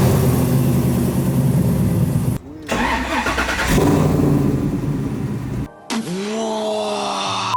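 A 700 hp supercharged LT4 V8 in a 1969 Camaro cranks and fires up, pausing twice, then catching with a loud rising roar that settles into a deep idle. People talk over the engine.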